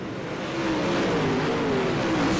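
Race cars running side by side at the I-55 track, a continuous engine roar with a rising and falling whine as cars pass, steady and moderately distant throughout.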